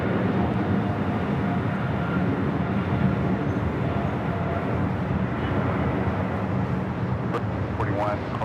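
A British Airways airliner takes off on runway 25 right at LAX, producing a loud continuous jet roar that stays strong throughout, with faint speech-like chatter toward the end.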